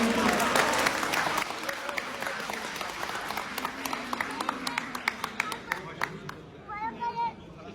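Loud applause from the audience at a poetry mushaira in Doha, Qatar, a full burst of clapping that tapers into scattered claps with some crowd babble and a voice near the end.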